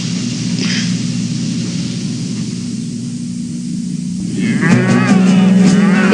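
Cattle moo in open cattle country near a coal mine, a low drawn-out bellow rising near the end over constant hissing wind-like background noise.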